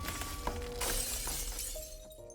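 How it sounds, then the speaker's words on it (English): Illusion shattering like glass in the video game Love and Deepspace, a bright crystalline burst near the start that rings out into sparkling, tinkling fragments under a sustained ambient musical tone. "When I shatter the illusion, it's torn apart by another force"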